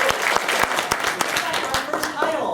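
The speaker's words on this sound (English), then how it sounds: "Let me get some applause going on." An audience at an improv comedy show claps loudly in a dense, continuous round of applause with sharp individual hand claps, while a voice talks over it.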